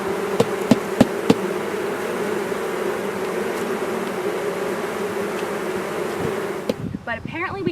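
A dense, steady buzz of many honey bees at a swarm's hive entrance fills the air close by, with a few sharp knocks at the start and a voice briefly at the end.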